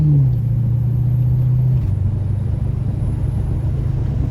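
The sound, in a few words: car accelerating and shifting from third to fourth gear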